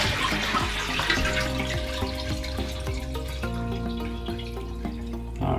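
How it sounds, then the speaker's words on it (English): A toilet flushing with its valve held down until the tank fully drains, a steady close rush of water that runs on for several seconds before cutting off. "you're just going to flush your toilet and you're going to hold down the valve until the tank is completely empty."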